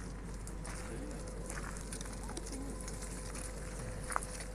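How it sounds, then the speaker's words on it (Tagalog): Pigeons coo softly at a distance over a steady outdoor background hum, with brief faint calls scattered through. "ito yung mga ibon ha"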